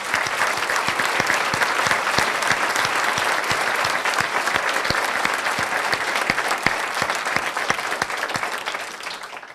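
Sustained applause at a 2013 Unbridled Learning press conference, honoring community leaders and partners: a dense, steady wash of many hands clapping, with a few sharper claps standing out, continuing for the whole stretch before tapering slightly at the end.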